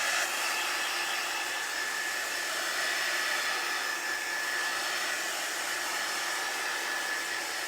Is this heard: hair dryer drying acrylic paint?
yes